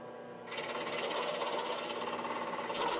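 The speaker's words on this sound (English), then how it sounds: "I did some template routing" A router cutting wood along a template for a chair's back legs starts up after a quieter moment and holds a steady, fairly loud motor whine with a buzzing, vibrating edge, and no voices.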